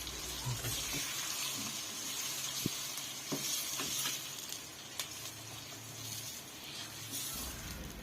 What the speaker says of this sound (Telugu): లో ఫ్లేమ్లో పెట్టి కారాన్ని ఆయిల్లోనే 5 నిమిషాల పాటు ఉడకనివ్వండి